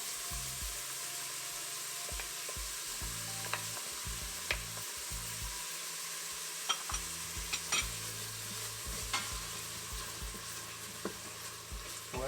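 Ginger and garlic for khichdi frying in a pan, a soft continuous sizzle broken by repeated stirring clicks and spoon taps, with a low background tone.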